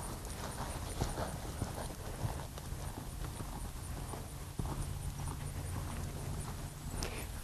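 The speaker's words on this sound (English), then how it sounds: "Lope him a few more circles till he's paying attention." A horse lopes in circles in a training arena, its hooves making a steady, rhythmic clip-clop on the ground at moderate distance, with faint background noise and no clear talk.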